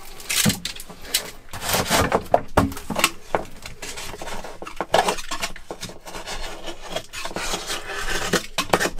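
Rotten, damp manure being scraped off a surface by hand, giving repeated close rasping and scratching strokes in an irregular rhythm with occasional clinks, no talk.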